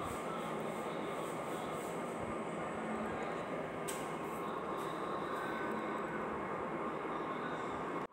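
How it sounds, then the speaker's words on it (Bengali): Shrimp fry in oil with salt and turmeric in a pan for a brinjal dish, giving a dense, continuous sizzle that stays steady and close throughout with no talking. "দিয়ে নেড়ে এখন চিংড়ি মাছটাকে ফ্রাই করে নেব।"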